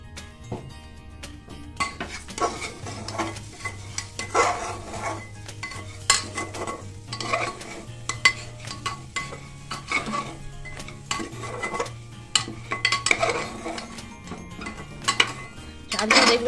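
Rice grains toasting in a pan are stirred and scraped, with repeated sharp clinks and knocks of a utensil against the metal over a faint sizzle, close and irregular, with a low hum underneath.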